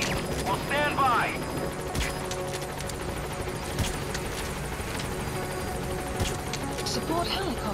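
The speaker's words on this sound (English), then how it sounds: "Support helicopter has arrived." A support helicopter arrives at a landing zone in Metal Gear Solid V, its steady rotor drone running throughout beneath radio-style voices, with scattered sharp bangs of distant gunfire.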